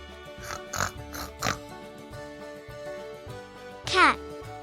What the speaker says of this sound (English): The pig says oink,